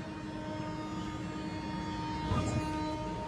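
The Sundarban Express (726) pulling out of Alamdanga railway station, heard from the opposite platform as a steady low rumble with a sustained engine hum and faint mechanical knocks.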